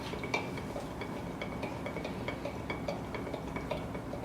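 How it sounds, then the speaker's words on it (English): A utensil stirs food coloring into a crystal-growing solution in a container, making a quiet, steady run of light clinks and scrapes at a regular pace, close by and with no talking. "You want to stir it in there."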